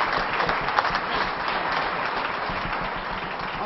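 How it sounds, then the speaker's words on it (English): A crowd applauds at a Chamber of Commerce awards night, a sustained, even roar of clapping from many people that holds steady throughout, with a little murmur of voices underneath. "a round of applause"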